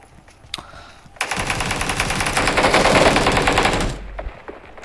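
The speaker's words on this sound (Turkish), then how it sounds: "Bak adam rakibi sıkıyor." Rapid automatic gunfire in PUBG Mobile, a single shot followed by a long loud sustained burst lasting about three seconds before cutting off, then a faint final crack.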